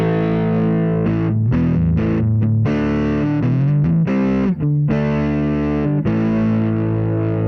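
Electric guitar with a driven, gritty amp tone playing sustained chords and riffs, loud and continuous with no talking.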